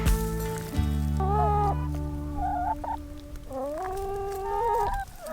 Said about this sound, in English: There's our lovely chickens, hens, getting to work,